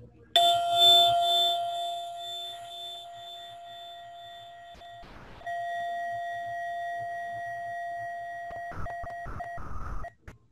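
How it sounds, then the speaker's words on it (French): A single meditation bell strikes and its clear tone rings out long and steady, briefly interrupted by a few noisy bursts near the end. "nous allons débuter après le son de la cloche"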